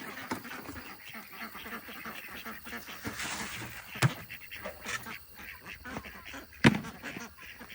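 Ducks quack at a farm pond that waters a garden, a few short calls scattered among outdoor farmyard noise at moderate distance.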